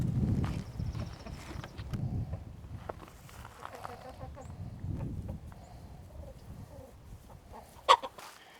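Hens and a rooster cluck softly and intermittently nearby, with rustling and shuffling around them and one brief louder squawk near the end.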